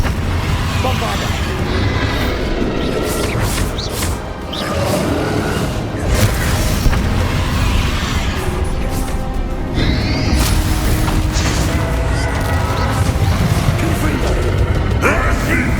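Blasting spell explosion in Hogwarts Legacy during a fight, heavy booms and crashes layered over dense continuous game noise across the whole stretch, with a voice speaking over it.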